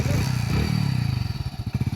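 Newly bought motorcycle idling close by, a low rhythmic engine putter with regular pulsing beats that grows slightly choppier toward the end.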